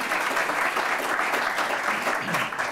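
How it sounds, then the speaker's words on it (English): Crowd applause at a chamber of commerce mayoral candidate event, dense steady clapping from a seated audience holding at an even, fairly loud level throughout. "Crowd, give them a nice round of applause"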